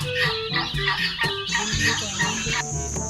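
Several small wild junglefowl cluck close by in quick, busy bursts, one clucking over another.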